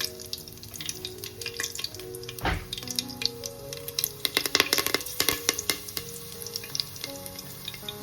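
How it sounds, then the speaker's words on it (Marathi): Curry leaves hit hot oil in a pan while chicken rice is cooked, giving a continuous crackling sizzle with sharp popping spatters and a steady low hum underneath. "तेल आपला गरम झालेलं आहे लगेचच आता आपण कढीपत्तासुद्धा टाकून घेऊ"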